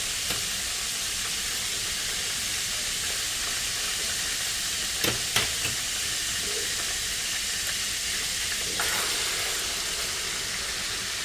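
Pork chops frying in a pan with a constant broad sizzle and hiss close by, and a few sharp ticks and clinks from the pan partway through.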